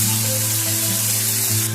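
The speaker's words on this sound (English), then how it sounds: "saute these on a high flame" Vegetables, boiled corn, peas and capsicum sizzling as they are sauteed over a high flame, a dense continuous hiss with a steady hum beneath.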